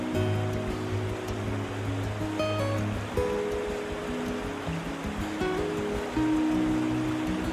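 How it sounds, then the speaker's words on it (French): Steady, full rushing of an alpine mountain stream partly covered by snowfields flowing nearby, near the Grand Méan glacier, constant and unbroken with no voices. "On se rapproche de nouveau du cours d'eau"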